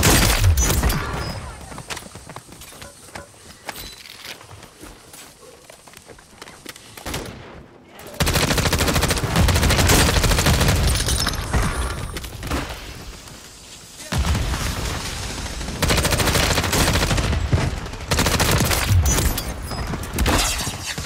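Machine gun fire in a shooter video game: loud, sustained automatic bursts rattling in long stretches with brief pauses between them, broken by a sharp crash and a few booms.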